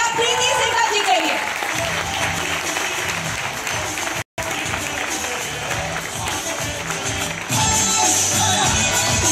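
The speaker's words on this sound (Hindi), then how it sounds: "जोरदार तालियां प्रीति सिंघल जी के लिए" Sustained applause from a seated audience at a network marketing event, dense and loud, with crowd noise and a voice over it; the sound drops out briefly midway, then resumes.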